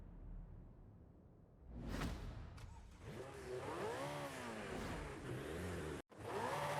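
Ferrari SF90 Stradale hybrid supercar in Forza Horizon, its engine rising and falling in pitch as it accelerates through gear changes, a whoosh at the start, loud and continuous with a brief cut near the end.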